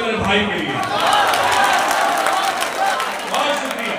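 Audience applause at a Hindi-Urdu poetry recital (mushaira), a dense sustained wash of clapping and crowd noise lasting about four seconds, fairly loud and steady with no clear talk on top.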